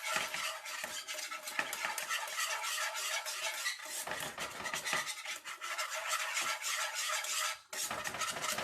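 Butter and flour roux scraped and stirred steadily in a pan with a utensil, a continuous close scratching rasp with brief pauses, no talk.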